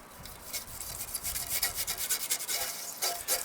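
A brass bristle brush scrubs old sap and shellac off the teeth of a pole saw blade, giving a steady run of close, scratchy rubbing strokes with no talk.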